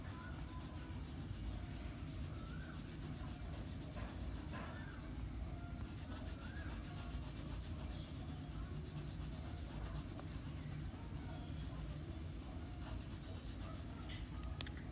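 A crayon colours lightly across paper with soft, continuous scratchy strokes, faint and close, while a person talks quietly in the background.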